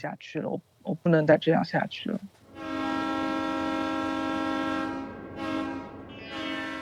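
A train sounds its horn in one long, loud, sustained blast after a few seconds of talking, then a second shorter horn note follows.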